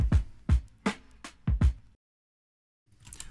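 Slowed drum beat at 80 BPM: deep, warm kicks and snare hits in a lazy groove that cuts off into silence before a faint return at the end.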